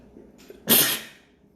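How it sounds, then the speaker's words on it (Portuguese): A single sharp, loud sneeze bursts out after a brief breathy intake, then fades into quiet, with no talking around it. "Sai, espirro."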